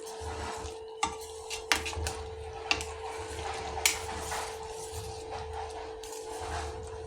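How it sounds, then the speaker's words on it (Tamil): Cashews and raisins being stirred into moong dal payasam in a pot, a steady soft scraping with a few sharp utensil clinks against the vessel, close and alone with no talk. "இப்போ முந்திரி திராட்சை அதை எடுத்து கொட்டி நல்லா மிக்ஸ் பண்ணி விட்டுக்கலாம்"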